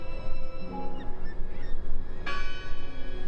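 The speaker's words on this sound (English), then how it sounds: "Listen! The bell!" A church bell in the video game Draugen rings with long, sustained metallic tones, one strike swelling brightly partway through over a soft ambient background.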